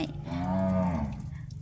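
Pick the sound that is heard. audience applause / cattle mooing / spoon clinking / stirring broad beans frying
cattle mooing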